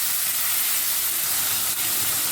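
Onions frying in hot mustard oil, a steady broadband sizzle with a brief spike near the end, continuous and fairly loud with no talking.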